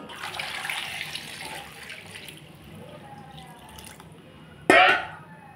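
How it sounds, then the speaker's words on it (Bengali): Running tap water splashing while potatoes are washed in a kitchen, a steady soft rush with a brief louder gush near the end, close by. "এখন আমি আলুগুলো ভালো করে ধুয়ে দিয়ে দেব"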